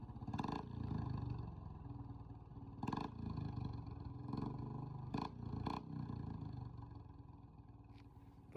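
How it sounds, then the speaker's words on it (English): A Harbor Freight Predator 420cc engine fitted in a 1927 Ford sprint car runs steadily with a loud, rough rumble, punctuated by several brief sharper pops over about eight seconds. "The 420cc Predator was the perfect engine to put in the car"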